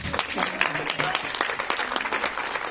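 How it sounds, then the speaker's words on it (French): Audience clapping at the inauguration of a shop, a dense, continuous patter of many hands with murmuring voices mixed underneath throughout. "Et vous pouvez l'applaudir à nouveau."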